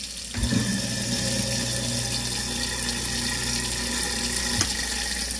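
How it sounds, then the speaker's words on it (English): A brand new garbage disposal whirs steadily with water running through it, starting abruptly and shutting off near the end. "You should hear a beautiful sound of a brand new garbage disposal unit."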